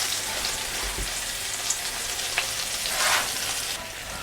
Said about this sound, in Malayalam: ഫ്രൈ ചെയ്യാം